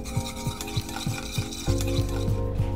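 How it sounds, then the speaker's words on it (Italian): An immersion blender whips butter into a warm gourmet black truffle mixture in a kitchen, giving a steady motor hum with rhythmic swishing strokes that grow louder and fuller halfway through. No one talks. "Andare con un frullatore e montare."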